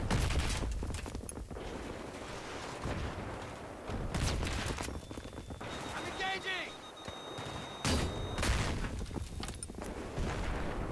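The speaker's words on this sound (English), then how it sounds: "how many times do I have to shoot it?" Gunfire in a Battlefield 3 playthrough: bursts of sharp shots and booms at irregular intervals, loud and dense, mixed with battle noise and a voice talking over it.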